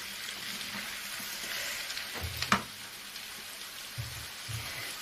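Eggs fry in a frying pan with a faint, steady hiss of sizzling, broken by a brief sharp clink near the middle and a few soft low bumps later on.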